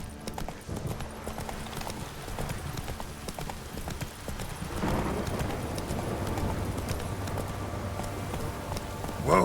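Hooves of Roach, Geralt's horse in The Witcher 3, beat out a steady clip-clop beneath a rainy-sounding game backdrop, continuous and mid-distance, growing slightly fuller toward the end.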